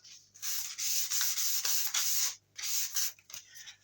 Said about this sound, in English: I'm going to be using, as I said, the P400 grit wet and dry sandpaper to start with